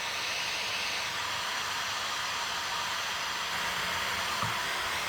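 A hair dryer blows steadily on black paint on a silver teapot, giving a constant, close, even whooshing hiss with no breaks.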